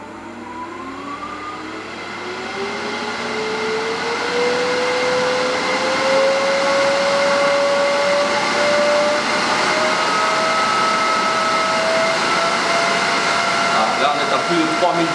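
A Jet JWL-1840EVS variable-speed wood lathe spins up, its motor whine rising in pitch as speed climbs, then holding a steady loud hum near the machine.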